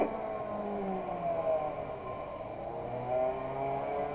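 A race car in a racing video game whirs past, its engine pitch rising and falling in smooth sweeps, fairly faint against a quiet steady background.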